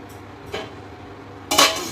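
Metal pot lid set down over boiling water seasoned with vinegar and oil while cooking prawn biryani: a faint clink, then a sharp, louder clatter of the lid landing near the end.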